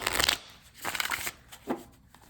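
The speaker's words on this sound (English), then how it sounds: "That is a nice shuffle." A new deck of nice, bendy playing cards being shuffled: three quick riffling bursts, close and fairly quiet, with short pauses between them and no talking.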